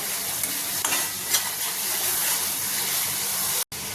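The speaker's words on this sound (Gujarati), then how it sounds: "સિંગદાણાના ભૂકાને પણ સરસ એવો મસાલાની સાથે સાતોઈ લેવાનો છે આવી રીતે હલાવતા રહેવાનું છે" Ground peanut powder fries with spices in a pan while being stirred. A dense, steady sizzle and hiss runs close and loud with a few soft scraping strokes, cutting out briefly just before the end.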